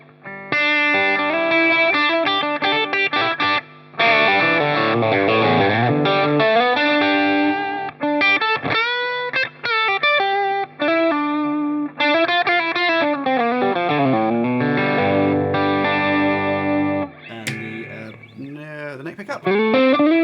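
An electric guitar on its bridge pickup through a Line 6 Helix with heavy overdrive plays loud, continuous riffs and sustained distorted notes, with brief breaks between phrases.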